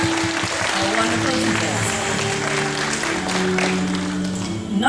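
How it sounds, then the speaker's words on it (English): Crowd applause at a school graduation ceremony: dense, steady clapping from a large audience that holds for about five seconds, with voices and a low musical tone underneath. "Let's give them a round of applause."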